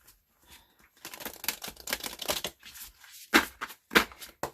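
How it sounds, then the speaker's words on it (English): A deck of cards is shuffled close up in several quick riffling bursts, with soft handling rustles between them and a quiet start. "Let's just give it another shuffle."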